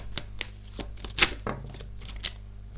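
Tarot cards being shuffled and drawn, a run of soft papery riffles and slaps with sharper snaps, close by and fairly quiet, no talking.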